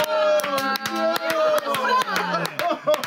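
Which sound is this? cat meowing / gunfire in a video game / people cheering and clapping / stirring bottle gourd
people cheering and clapping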